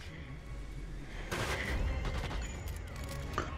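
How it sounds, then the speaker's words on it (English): A sniper rifle fires in the virtual reality shooter Sniper Elite VR: one loud, sharp crack partway through, followed by a long rumbling echo and faint clicks fading out. "I'm getting pretty good at shooting this gun"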